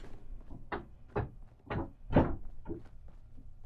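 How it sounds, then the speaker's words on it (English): Puppy tails wagging and thumping against a door, a series of about eight soft, hollow knocks at an uneven, quickening rhythm, close by with no talking. "That is the sound of puppy tails."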